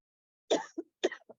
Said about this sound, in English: Sorry, I wasn't planning to be coughing on you.